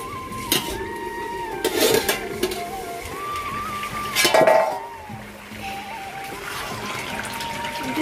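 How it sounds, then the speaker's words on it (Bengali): A metal pot lid clinks and rattles as it is lifted off a pot of boiling bottle gourd in a kitchen, with a few sharp clanks over a constant background hum and bubbling. "তো লাউটা সিদ্ধ হয়েছে নাকি আমি ঢাকাটা খুলে দেখবো"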